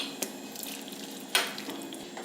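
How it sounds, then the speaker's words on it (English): Ham and beans being stirred in a crock pot set to low: quiet wet scraping and a couple of utensil clicks against the pot, including one sharper knock partway through. "Gonna give it a good stir."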